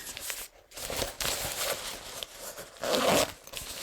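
A zipper being pulled in several quick strokes, close and fairly crisp, with light rustling of fabric around it.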